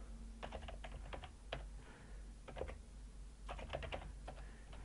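Fingers tap out short bursts of keystrokes on a computer keyboard, quiet and close against a low steady hum, with brief pauses between runs of clicks.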